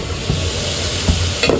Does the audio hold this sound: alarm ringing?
no